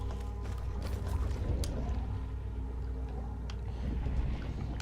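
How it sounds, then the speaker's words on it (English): Eerie watery ambience from the Demon Pool in Murdered: Soul Suspect, a low rumbling wash with faint gurgles and scattered clicks and splashes, continuous and moderately quiet, with no talking. "that's the sound of Demon Pool"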